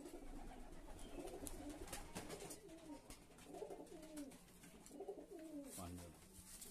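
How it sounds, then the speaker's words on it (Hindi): Pigeons coo steadily in a loft housing male and female birds, repeated soft throaty calls close by with a low background murmur. "उड़ाने के लिए इधर कबूतर रखा है"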